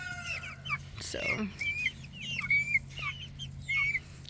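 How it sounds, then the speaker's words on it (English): Young Brahma chickens peep and chirp in quick, high bursts, a steady low hum running underneath, with one brief spoken word. "Little chickens. Brahmas are my favorite."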